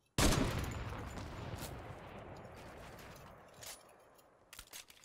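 Fortnite gunfire opens with a sharp, loud shot followed by a long echoing decay. A couple of fainter shots land later and close out a short, mostly quiet stretch.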